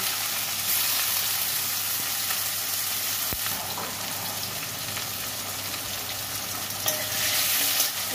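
Onion and tomato frying in a pan with a bay leaf and cumin seeds, giving a dense, steady close sizzle with faint stirring scrapes and no talk.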